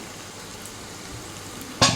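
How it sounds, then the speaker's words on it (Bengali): Potatoes fry in oil in a pan, giving a low, steady sizzle, then a short, louder clatter of stirring near the end. "আর কিছুক্ষণ একটু ভেজে নেব, আর একটু ভালো করে ভেজে নেব।"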